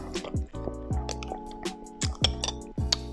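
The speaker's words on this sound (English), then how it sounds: "we are going to be drinking some water" Water poured and sipped at home, with repeated wet glugging drips and small liquid squishes in a steady rhythm, close and fairly quiet, with no talking.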